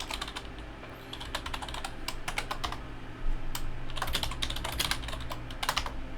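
Typing on a computer keyboard while entering a comment in Google Classroom: bursts of quick, close key clicks with short pauses, fairly quiet and without speech.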